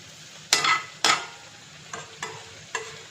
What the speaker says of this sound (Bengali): তো আমি এইগুলো এইভাবেই ভেজে নেব